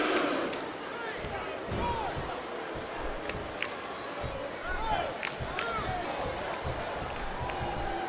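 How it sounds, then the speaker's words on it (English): A sellout wrestling arena crowd at a WWE Survivor Series 2007 match roars in a steady, dense wash of cheering and shouting, with scattered whistles and sharp claps or thuds from the ring cutting through. "This sellout crowd just can't get enough of these superstars."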